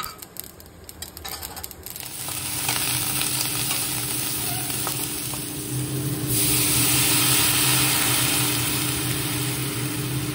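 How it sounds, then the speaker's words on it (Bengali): Spices temper in heating oil before mango goes in, a soft crackle that swells into a fuller, steady frying hiss partway through, with a faint low hum underneath. "তো চলো এটাকে একটু ফোড়ন দিই, তেলটা একটু ভালো করে গরম হোক, তারপরে আমটা দিয়ে দিচ্ছি।"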